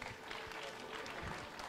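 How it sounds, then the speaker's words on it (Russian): Studio audience applauding at a KVN comedy championship final, a dense, steady wash of clapping with crowd noise held at an even level throughout. "Под ваши аплодисменты."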